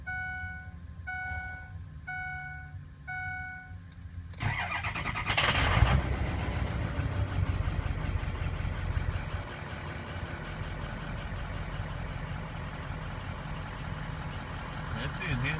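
A 2003 Ford 6.0 Powerstroke diesel pickup waits with the key on as the glow plugs heat and a warning chime beeps, then cranks, fires and settles into a steady, loud diesel idle with a faint squeal.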